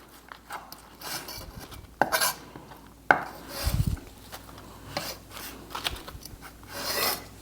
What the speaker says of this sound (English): Dump all this right in the pan.